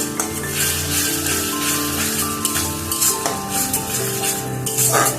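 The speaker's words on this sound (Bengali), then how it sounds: "পেঁয়াজ আদা রসুন মোটামুটি কষানো হয়ে গেছে। এখন অ্যাড করছি টমেটো বাটা।" Tomato paste goes into frying onion, ginger and garlic masala with green chillies in a hot pan. A loud, continuous sizzle runs throughout, with stirring scrapes and a steady tonal hum beneath.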